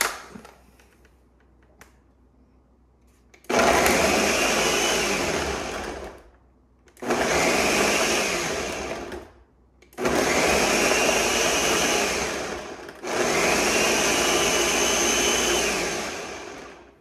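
A kitchen blender purees tomatoes for restaurant-style salsa, roaring loudly in four long bursts with brief pauses between, after a quiet start with faint handling noises.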